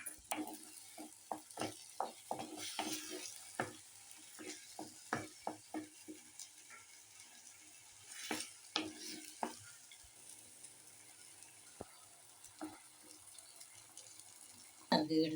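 Dried red chilies, coriander powder and a little salt are sautéed for squid curry, a spoon scraping and stirring the pan in quick irregular strokes over a soft sizzle, with occasional clinks and water sounds.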